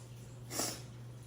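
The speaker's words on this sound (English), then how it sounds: "Sorry for the sniffling" A single nasal sniff from a person two weeks after deviated septum repair, short and breathy, close to the mic over a low steady hum.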